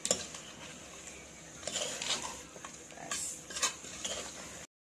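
A spoon stirs and mixes mutton curry in a pot, scraping and clinking against the metal over a soft steady sizzle, close and moderately quiet with no voices.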